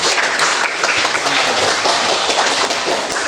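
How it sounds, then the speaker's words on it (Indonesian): A crowd claps at once, a dense, even patter of hands that holds loud and steady from start to end, with no voices. "Tepuk tangan."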